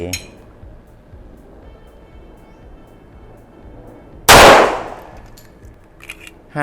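One loud, sharp shot from a Smith & Wesson 4506 pistol cracks out near the middle of the clip and rings off briefly over low background noise.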